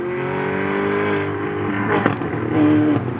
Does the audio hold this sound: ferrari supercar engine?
yes